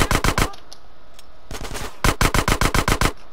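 Rapid bursts of AK rifle fire in GTA San Andreas, loud and close, come in two runs of quick regular shots separated by a short pause, with a longer stretch of fire at the end.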